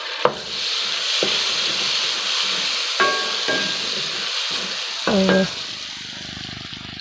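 Tomatoes frying with garlic and spices in a pot for dhaba-style dal chana, a steady loud sizzle throughout with a few sharp clinks of a spoon against the pan and a brief word spoken over it.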